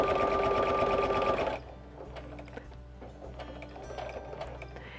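A sewing machine stitches quilt fabric in a fast, loud, even whir for about a second and a half, then stops, leaving faint ticking and handling noises.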